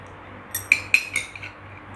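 Metal spoon stirring noodles with chili sauce and broth in a bowl, a few light clinks and scrapes against the bowl in a quiet room.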